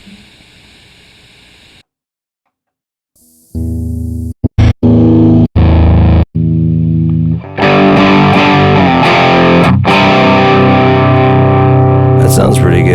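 An electric guitar plays through a Digitech Genesis 3 effects unit on its green preset with a heavy distorted tone: a few isolated chords and stabs, then sustained, continuously strummed playing, loud and close.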